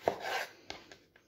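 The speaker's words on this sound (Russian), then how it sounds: "Все баклажаны нарезала, подготовила." A few soft knife chops through eggplant on a cutting board, one sharper cut followed by lighter taps and a scraping rub, quiet and close.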